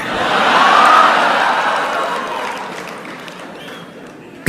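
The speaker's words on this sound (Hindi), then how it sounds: "तालियां तो अब बजने वाली है।" A large audience at a Modi speech in Germany roars with applause and cheering, loud and dense at first, then slowly fading over a few seconds.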